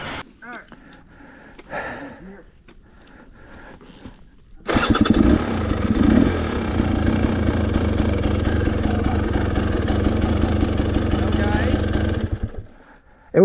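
A motorcycle engine starts up partway through and then idles steadily and loudly at close range at an off-road staging area, with people talking under it before it fires up.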